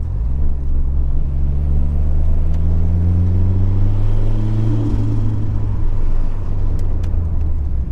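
A 1987 Ford Sierra Cosworth RS500 pulls hard through second and third gear on cold tyres, its loud, close engine note climbing in pitch and then settling, heard alone without talk.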